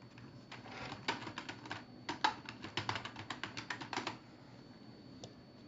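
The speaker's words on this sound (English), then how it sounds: "type the following python.org in the search bar" Short bursts of keystrokes on a computer keyboard as a web address is typed, quick clustered clicks in two runs with a brief pause, close and fairly quiet in a still room.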